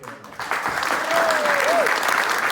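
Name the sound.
audience applause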